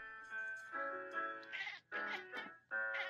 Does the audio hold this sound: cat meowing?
yes